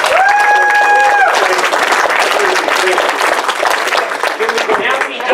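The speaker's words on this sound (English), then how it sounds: "Let's give our wonderful people a round of applause." Audience applause at a live drag show, loud dense clapping filling the room, with a voice calling out over it at the start and scattered crowd chatter mixed in.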